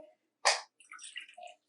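Water poured over dried soybeans in a pot to soak, a brief splash followed by short bubbly trickles and drips, close and fairly quiet.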